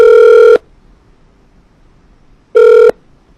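Two loud telephone tones sound after a dropped call, each a steady buzzy beep, the first about half a second long and the second shorter, separated by near silence.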